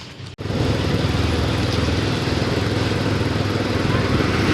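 A motorbike engine drones steadily at close range, a dense continuous rumble that barely changes over several seconds after a brief dip at the very start.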